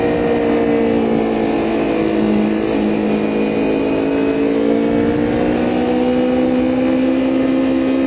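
Motorcycle engine carrying the rider along at a slow, steady pace, a continuous loud drone with gently rising and falling pitch, close up and alone without any voices.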